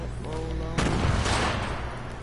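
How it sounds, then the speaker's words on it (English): A shotgun blast in an online shooter video game hits as one loud, broad burst partway through, over steady game noise with a faint tone early on. "Is dude shooting a shotgun from that far?"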